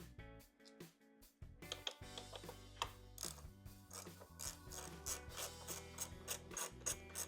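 A ratchet works loose the four bolts holding a T30 amplifier on a 2024 Harley, giving bursts of rapid close clicking, with brief pauses and faint metallic clanks in between.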